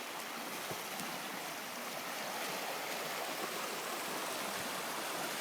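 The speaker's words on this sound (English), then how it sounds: "You can probably hear the water rushing." Spring floodwater rushes down a river in Muskoka, a loud, steady, broadband roar of churning water with no pauses.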